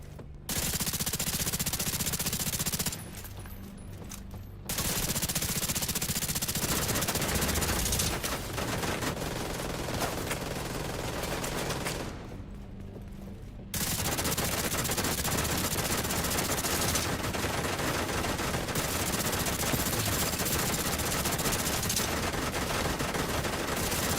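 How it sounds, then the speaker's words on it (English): Gunfire in The Division 2: long, dense bursts of rapid automatic fire, loud and close, broken by a couple of brief pauses before resuming almost continuously. "Who starts shooting me?"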